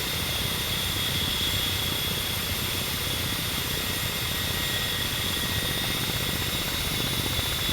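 Steady close rotor and turbine drone of a Ka-50 coaxial attack helicopter cruising in the DCS flight simulator, a constant loud whine with high tonal hums and no change in pitch.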